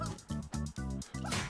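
A dog in the video game Streets of Rage 4 lets out a quick series of five short, yipping barks in a steady rhythm, close and moderately loud.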